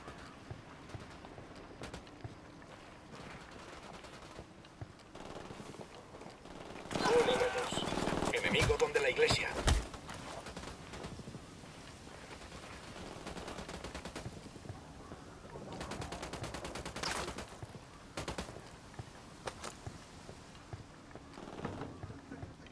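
Bursts of rapid video game gunfire coming from a church, with a loud sustained volley near the middle and another later, among quieter scattered shots and background noise.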